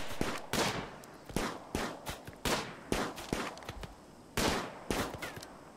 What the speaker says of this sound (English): Taking shots at our turret.